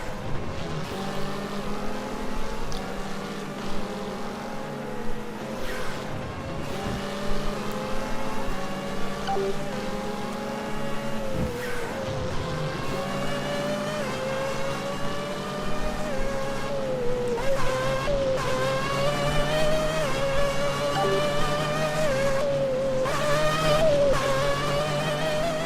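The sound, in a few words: race cars racing in the video game Second Life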